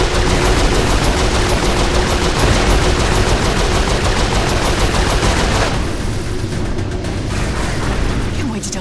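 Dense, loud gunfire in the Saints Row 4 video game, rapid continuous bursts and heavy shots pounding without a break, easing slightly toward the end.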